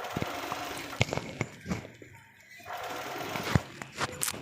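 Sewing machine running as a tailor stitches the side seam of a coat, a steady mechanical whir with brief pauses, near and moderately loud, with a voice talking over it.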